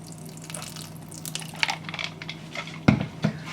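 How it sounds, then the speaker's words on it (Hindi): Ice-cold water poured into beaten cream while making homemade butter in a kitchen, a soft close splash and trickle with a couple of sharper wet knocks near the end, no voice. "यहाँ पे अब आपने ऐड करना है बिल्कुल ठंडा बर्फ का पानी, आप डालेंगे बीच में"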